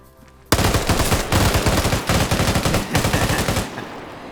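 A 240 machine gun in a video game fires 7.62x51 NATO rounds in one loud, sustained burst of rapid shots lasting about three seconds, close and aggressive, with no talk over it.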